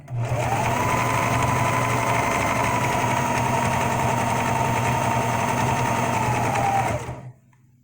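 A sewing machine runs in one continuous steady stitching burst on fabric for about seven seconds, loud and close with a whirring motor drone, then stops abruptly.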